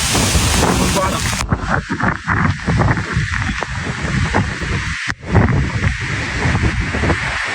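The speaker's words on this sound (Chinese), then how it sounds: "真的是狂风骤雨啊" Strong gusts hit a self-built camping shelter during a heavy rainstorm, roaring and buffeting close to the microphone with sudden drops and surges, over a dense patter of rain.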